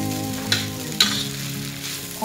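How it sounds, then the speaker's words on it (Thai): Glass noodles with sausage stir-fry in a wok, a steady loud sizzle with two sharp scraping clanks of a utensil against the pan and a low hum underneath, no talk. "ผัดเส้น"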